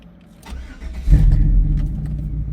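A 1996 Chevy Tahoe K1500 4WD with 263,000 miles cranks briefly and fires almost instantly, its V8 catching with a loud, close roar that settles into a steady rumbling idle.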